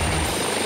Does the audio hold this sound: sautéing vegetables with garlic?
no